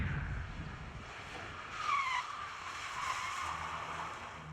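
A car brakes hard without ABS, tyres squealing in a brief rising screech that peaks and fades over a steady engine and road rumble, heard from a distance.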